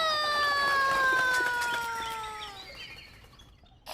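A bird call in a farmyard style, tagged like a rooster or hen, gives a long, loud, clear tonal cry with a steady pitch that slowly falls and fades over a few seconds, with no talking.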